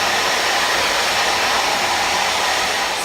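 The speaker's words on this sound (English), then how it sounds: "So we finished blow drying." Steady, loud, close rush of a hair dryer blow-drying hair in a salon, a constant broadband whoosh with no voices.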